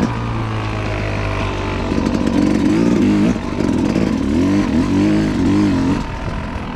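A 1986 Yamaha YZ250 two-stroke dirt bike engine runs loud and close, its buzzing note rising and falling in repeated revs, with a steady idle before the throttle blips.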